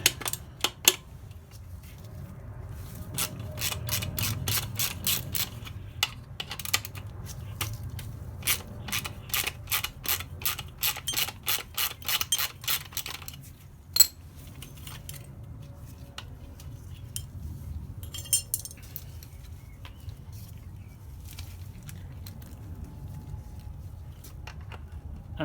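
Metallic clicks, ratcheting and small tool clatter ring out up close while the guard is removed from a Yamaha XT600e rear brake caliper, in bursts that are dense early on and sparser after the midpoint.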